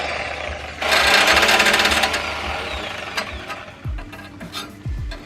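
A power saw cuts through the muffler pipe of a BMW exhaust in a loud, close, rapid buzzing burst that then fades. Several scraping knocks and clanks of metal follow.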